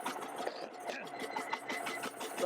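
Rare hand-started Gardner L2 single-cylinder engine with a heavy flywheel running down, a rapid mechanical clatter with knocking pulses and rattling, close by and fairly quiet.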